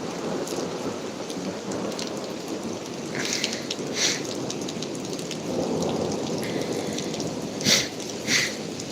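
Steady rain pours down during a November thunderstorm around Puget Sound in the Pacific Northwest, a dense constant hiss with several sharp cracks and rumbles of thunder rising above it, and no talking.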